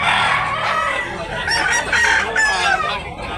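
A super brown red rooster at a chicken market in Cebu crows loudly and close, a long strained cock-a-doodle-doo with a few clucking notes, alone without talk.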